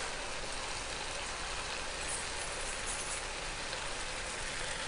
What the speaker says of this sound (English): Now we're going to add the garlic and saute for 30 seconds.